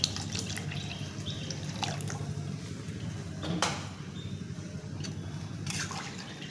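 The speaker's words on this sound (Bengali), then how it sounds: "আর একটু জল দিয়ে দেবো" Water poured into a pot of thin fish curry with singi fish, potato and pointed gourd: a continuous close splashing, gurgling pour over a low simmer, with a few brief clatters and no voices.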